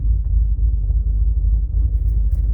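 A twin-turbo Ford F-150 pickup is being driven, a steady low engine rumble that stays even and close throughout, with no voices.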